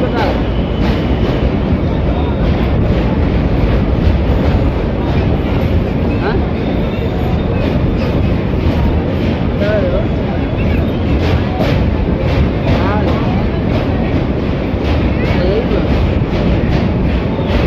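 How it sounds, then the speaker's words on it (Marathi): Steady, loud rumble of a passenger train running from Jalna to Varanasi, heard from inside the coach near Prayagraj, with continuous wheel and carriage noise and a voice speaking over it throughout. "ट्रेन सध्या प्रयागराजच्या अलीकडे आहे"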